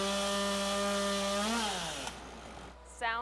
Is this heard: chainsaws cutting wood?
yes